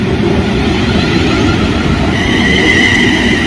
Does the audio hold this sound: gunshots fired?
no